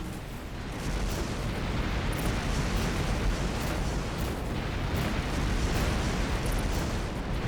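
Dense, continuous rumbling booms of missile explosions during a tough space battle in Rebel Galaxy, a steady loud barrage with occasional sharper bursts throughout.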